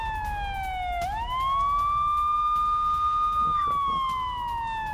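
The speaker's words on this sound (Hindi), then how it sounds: "लगातार एयर रेड सायरन बज रहे हैं।" An air raid siren wails over Tel Aviv during a missile attack. A single loud tone dips and then rises into a long, steady sustained wail, with no talking.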